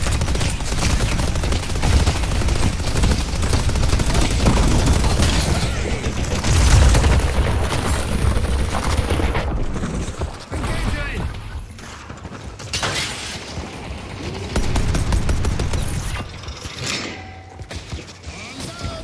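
A turret in the video game Deadlock fires heavily amid loud battle noise: sustained rattling bursts, booms and shattering impacts run throughout, thinning briefly and then building again, with in-game voice lines mixed in.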